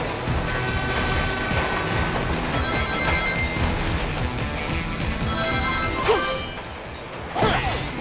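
A train in a Sonic the Hedgehog game rumbles and clatters steadily with ringing, bell-like tones, broken by two sharp crashes near the end.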